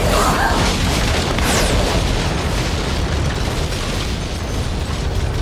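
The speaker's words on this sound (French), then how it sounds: "C'est pas très malin de tirer une roquette dans les coursives d'un vaisseau spatial, Johnny, hein." A rocket fired and exploding in a spaceship corridor makes a loud, sustained roaring blast, with broadband rumble filling the clip and no clear pauses.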